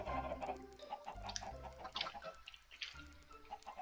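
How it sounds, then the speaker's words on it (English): Chickens clucking in a Minecraft chicken farm: a close cluster of soft clucks and chirps repeating irregularly over a low background hum. "It's a pretty bad chicken farm."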